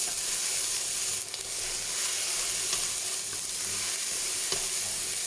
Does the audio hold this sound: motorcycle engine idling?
no